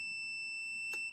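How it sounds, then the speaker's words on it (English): A heat press timer for mug sublimation rings with a steady, piercing electronic tone that holds for about a second, then cuts off after a brief click. "So the timer's just about to ring"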